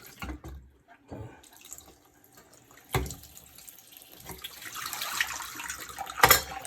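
Running water rinses film during black and white processing, a steady faint flow with a few clinks and knocks, rising to a louder splash near the end.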